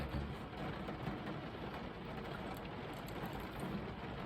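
Steady rain falls on a city street as a man walks past, a continuous broadband hiss with light patter that holds evenly throughout, with no talking.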